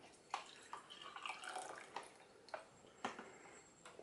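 Hot cappuccino pours from a pouch and splashes in short bursts, with a few distinct glugs and drips, close and fairly quiet.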